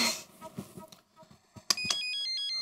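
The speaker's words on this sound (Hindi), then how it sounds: "अहो सच में बज रहा है सपने में नहीं बज रहा है।" A phone starts ringing at night with a steady electronic ringtone of repeating tones, after some brief shuffling and muffled sounds.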